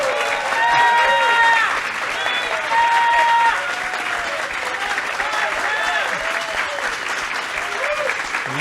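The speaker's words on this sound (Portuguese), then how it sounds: "Palmas para ela." An audience at a book fair applauds a singer with loud, sustained clapping that swells and carries on, while a voice speaks over it.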